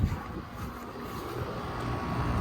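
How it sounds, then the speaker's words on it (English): The scroll compressor of a 2007 Carrier Comfort base-series central air conditioner runs outdoors as a steady, close, low droning hum that grows slightly louder, with no talking. "Listen to that amazing scroll sound of the Carrier."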